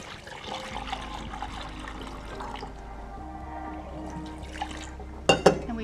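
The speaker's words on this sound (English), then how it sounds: "What would happen if I pour water out?" Water pours out steadily in a school biology lab, a continuous liquid rush that fades toward the end and is followed by a couple of sharp knocks.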